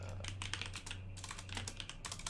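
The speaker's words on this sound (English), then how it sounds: "Guess I'll go ahead and start typing out the notes then." Rapid typing on a computer keyboard, a dense run of close key clicks lasting throughout with a brief pause near the middle, over a steady low electrical hum.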